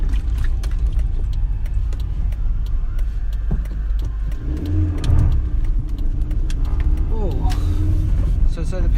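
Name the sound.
car engine running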